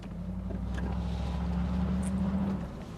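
A Cadillac Allanté pulls away, its engine giving a steady low droning hum that swells slightly and then eases off near the end, with no voices present.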